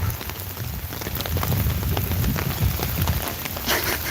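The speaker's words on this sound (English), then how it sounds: "Thank you, God, for giving us the rain today." Steady rain pattering down at an outdoor church rally in Virginia Beach, a dense, continuous hiss of drops striking surfaces that stays loud and even throughout, with no voices over it.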